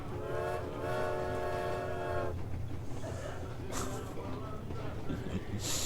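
A train rolls along in the Metro Exodus video game with a steady low rumble and a sustained horn-like harmonic tone early on, followed by intermittent hissing bursts; someone talks quietly over it.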